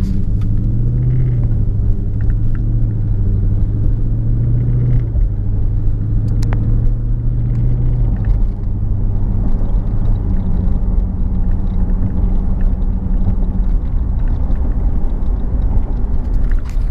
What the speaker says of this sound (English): So now I'm gonna put it in like a more of a comfort mode, and I'm gonna show you guys how well it shifts with that as well.